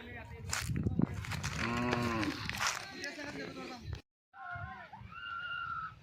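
A Khillar calf of a native village breed moos loudly in the open, with a crowd of people talking and shouting around it.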